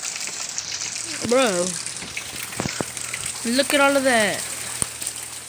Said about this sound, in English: And it's about to rain even harder.